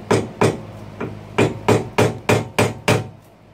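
A screwdriver is tapped into the notch of a retaining ring during interior disassembly of a Pontiac LeMans, giving eight sharp, close metallic knocks in an uneven rhythm, alone with no talk.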